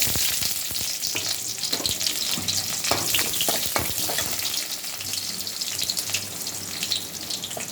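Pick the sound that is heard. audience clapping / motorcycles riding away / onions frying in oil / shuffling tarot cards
onions frying in oil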